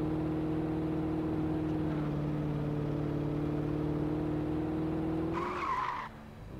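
A car driving in the Alan Wake video game, its steady engine drone holding loud and close for several seconds before a brief skid or squeal near the end as the engine fades.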